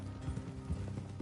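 Steady clip-clop of horse hooves at a walking pace in a video game, fairly close, with low rumbling background and no clear speech.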